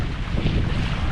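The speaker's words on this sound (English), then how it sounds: "it's so windy though" Strong wind buffets the microphone on a seaside outing near Namua Island, Samoa, a loud, steady low roar that fills the short moment with no voices.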